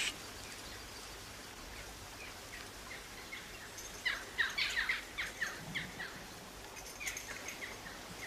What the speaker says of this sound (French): Rien que la corneille, sire.